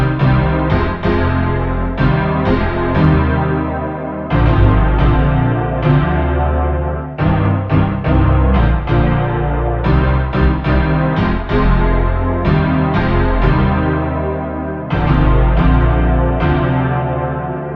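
Loud, distorted dark bass synth from the Native Instruments Dirt distortion plugin with added reverb and EQ, playing sustained repeating phrases with sharp note attacks and long washy tails, heard alone.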